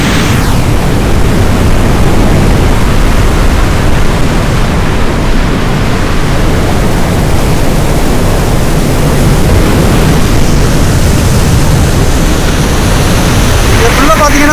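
Water roars loudly and continuously over a 10-foot weir on the Puthu Kaveri river, a dense rushing noise filling the whole clip without pause.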